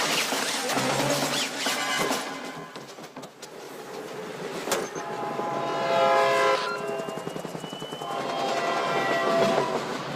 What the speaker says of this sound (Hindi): ट्रेन टनल के अंदर एंटर हो चुकी है।